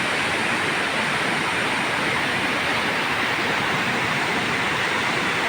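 Makeli Ella waterfall pours in a dense, steady roar of falling water, loud and unbroken from start to finish, with no voices.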